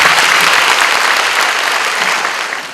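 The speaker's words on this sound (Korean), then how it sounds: "박수 부탁드립니다." A university welcome event audience bursts into loud, dense applause for the dean coming forward to speak, with steady clapping that fades slightly toward the end.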